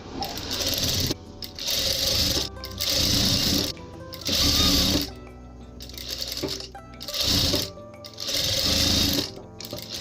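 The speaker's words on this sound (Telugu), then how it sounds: "సో ఇలా 2 లేయర్స్ ఫోల్డ్ పెట్టేసుకొని స్టిచ్ అనేది వేసేసుకోవాలి." Sewing machine stitching two folded layers of blouse fabric in repeated bursts, loud close motor whirring runs of about a second each, separated by short pauses, with no talk.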